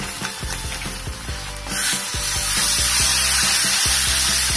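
Homemade tomato puree hits roasted gram flour in a hot pan for a dhaba-style paneer masala, a loud steady sizzle rising sharply partway through, with rhythmic scraping and stirring knocks throughout.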